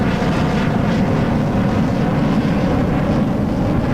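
Lockheed F-104 Starfighter jet engine in a flight video game, throttled up in flight into a loud, continuous, dense roar that holds steady and close throughout, with no speech.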